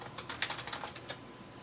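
Quick light keystrokes on a computer keyboard, a short burst of a dozen or so clicks typed at a steady pace, close and fairly quiet in a calm room.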